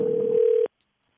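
Single telephone ring tone on an outgoing call placed during a live radio show, one steady electronic tone lasting just over half a second, then cut off into silence.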